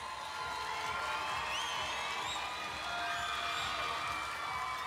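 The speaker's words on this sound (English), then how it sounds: "let's give them a huge round of applause" The Miss Teen USA 2021 pageant crowd roars in a large venue, a dense wash of cheering and clapping with scattered high whoops rising above it throughout.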